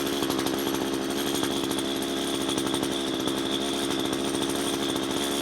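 A chainsaw cuts into a dead spruce tree, its engine a steady, loud, close whine that holds without a break for several seconds.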